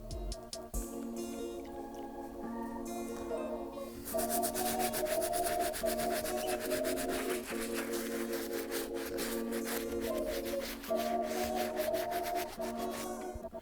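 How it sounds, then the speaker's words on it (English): A medium-bristle brush scrubs the leather uppers of a dusty Air Jordan 1 Shattered Backboard sneaker, a continuous close rasping rub of rapid back-and-forth strokes, heard under steady background music with no talking. "all done using the medium bristle brush"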